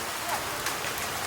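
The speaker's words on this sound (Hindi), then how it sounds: "अंदर अंदर अंदर अंदर बारिश हो रहा है" Rain falls in a brief, steady patter on surfaces, a soft, even hiss of drops at moderate distance.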